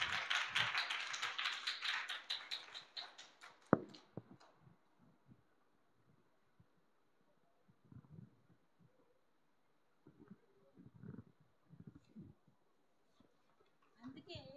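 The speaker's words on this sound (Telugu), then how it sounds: "గట్టి క్లాప్స్ కొడదామా పిల్లలు?" Children at a church vacation Bible school break into loud, dense clapping for about four seconds, the applause fading out into quieter talk and scattered sounds.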